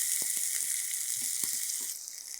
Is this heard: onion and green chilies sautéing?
yes